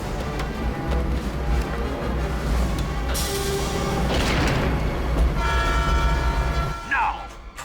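A train rushes past in a PS2 video game, a loud continuous rumbling roar with a horn blast and clattering, layered with game music and effects.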